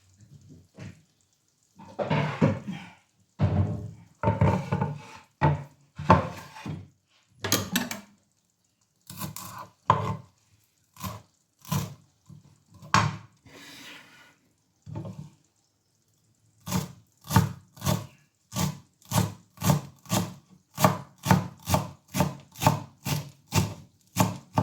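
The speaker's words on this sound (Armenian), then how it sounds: "կտրատեմ։" Knife chopping food on a wooden board while preparing a Greek dish, a long run of crisp, close chops, irregular at first, then a fast, steady rhythmic burst near the end, with no talking.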